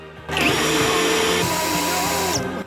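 A Tekhmann TIW 610i20 cordless impact wrench spins up at its third speed setting with a loud, steady high-pitched motor whine lasting about two seconds before winding down, close by and without talk.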